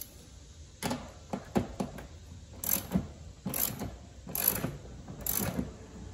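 A ratchet set to loosen works on a fastener during sensor replacement on a Volvo XC90, giving a run of faint, clicking bursts that repeat in an uneven rhythm, close and with no talk.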